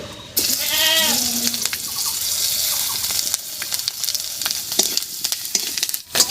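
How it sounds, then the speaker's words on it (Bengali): Green chilies and whole cumin seeds sizzle in oil left over from frying khoira fish, a steady loud hiss with scattered crackles throughout and a brief animal-like bleat early on. "মাছ ভাজার তেলের মধ্যেই দেবো তিন চারটে কাঁচা লঙ্কা আর এক চামচ মতো গোটা জিরা"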